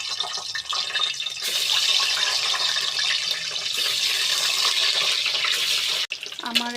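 Four salted eggs fry in oil left over from frying onions, giving a continuous bright, hissing sizzle that stays loud and steady before cutting off abruptly near the end.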